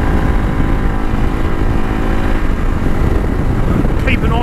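A Honda CRF300 Rally motorcycle revs hard while being ridden off-road, a loud, steady, buzzing engine drone with wind rush, held high in the revs with a brief gear change near the end.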